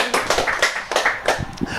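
Scattered hand claps from a small audience at a SpeakuP Monday talk, a handful of distinct, close, uneven claps rather than a full ovation.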